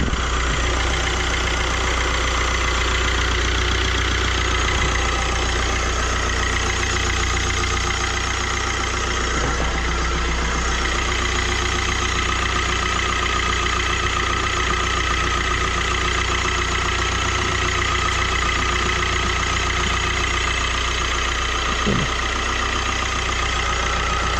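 A steady, continuous Opel Combo engine idles nearby with a constant low hum and faint rattle, unbroken for the whole stretch, with no talking over it.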